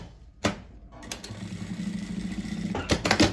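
A sewing machine stitches a strap onto a makeup case, running in a steady mechanical whir for about two seconds between sharp handling clicks and knocks at the start and end.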